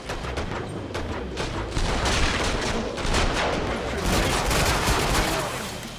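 Dense, continuous gunfire in the video game Killing Floor 2 fills the clip, with rapid overlapping shots and loud bursts that keep going without a break.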